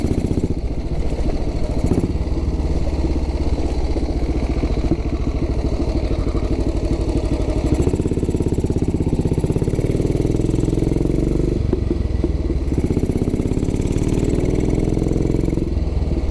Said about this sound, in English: otherwise you get too much engine noise